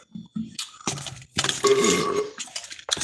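A man burps loudly several times at close range during a corned beef, cabbage and cornbread cooking session, each burp short and rough, with some kitchen clinks in between.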